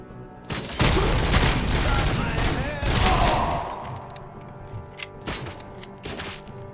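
Game gunfire from RoboCop Rogue City, a loud burst of rapid shots and booms in the opening seconds, then fainter scattered shots under a shouting voice.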